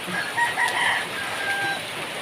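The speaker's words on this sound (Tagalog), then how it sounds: "Tumitilaok din naman sila" Roosters crow at a distance in the rain, a few drawn-out calls overlapping faintly against a quiet outdoor background.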